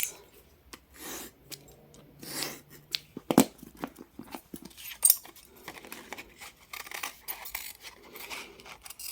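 Scissors snip by hand through paper while cutting a junk journal pocket, a scattering of short crisp cuts and rustles, close and fairly quiet with pauses between.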